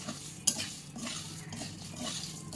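Homemade Cerelac ingredients roast in melted butter in a pan, with a soft continuous sizzle under scraping and stirring, a sharp utensil clink near the start and repeated spoon strokes against the pan.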